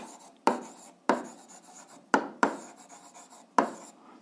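A pen scratches across paper while someone writes out a math exercise, five quick distinct strokes, close and clear with no talking.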